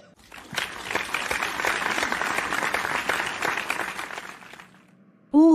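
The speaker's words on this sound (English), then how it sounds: "Let us clap our hands for the newest couple in town, Mr. and Mrs. Don Stevens." Guests applaud a newly married couple with sustained, dense clapping that builds quickly, holds for about four seconds, then fades out before a sudden loud burst of music or voice at the end.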